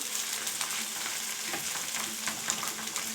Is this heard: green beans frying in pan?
yes